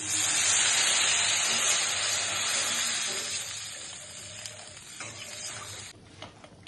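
Water poured into fried spice masala for a papaya, potato and fish curry, setting off a loud steaming hiss that gradually fades and settles into quieter bubbling with a few light clinks.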